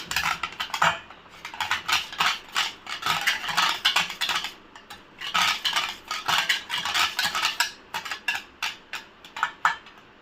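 Beetroot halwa mixture being stirred in a pan, giving continuous clinking and scraping of a utensil against metal in steady repeated strokes, close and fairly loud throughout, with no talking.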